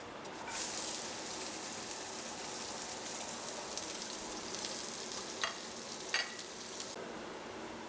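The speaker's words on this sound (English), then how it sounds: "I'm just going to add some oil, and then we're going to add our onion." Onion sizzling in hot oil in a frying pan, a steady close crackle and hiss with a few louder pops and spatters near the end, heard alone without talk.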